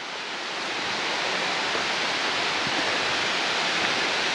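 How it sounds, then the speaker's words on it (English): Crabtree Falls waterfall cascading, heard as a steady broadband rushing hiss of falling water that swells slightly at the start and holds constant, with no voices. "You can see the falls cascading down there."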